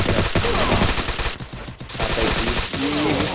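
Rapid automatic gunfire in the Free Fire video game, dense loud bursts with a short pause in the middle before the shooting resumes.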